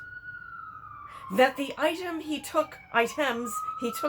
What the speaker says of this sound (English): Sorry about the siren, I have to pause.